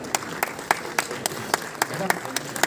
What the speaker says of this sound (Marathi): जोरदार टाळ्या वाजत राहू द्या मोहन जोशी सर यांच्यासाठी